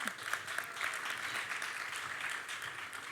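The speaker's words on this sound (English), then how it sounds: "applaud that." An audience at a talk on culture and the creative economy claps steadily, a soft, even wash of applause heard from a distance with no break.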